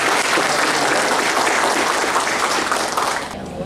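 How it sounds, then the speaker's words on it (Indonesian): An audience at an official reception for university students held by a regency vice-regent gives a loud, dense round of clapping that continues steadily before tapering off at the end. "kami ucapkan terima kasih yang luar biasa dan tepuk tangan"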